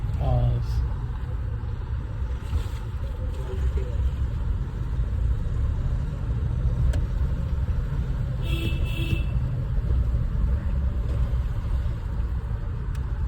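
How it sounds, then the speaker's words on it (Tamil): A Mahindra Bolero B6 is driven on the road, its engine a steady low rumble heard from inside the cabin for the whole stretch, with a few faint high tones and brief sounds now and then. "வண்டியோட அந்த பொலேரோ சவுண்ட் இருக்கு."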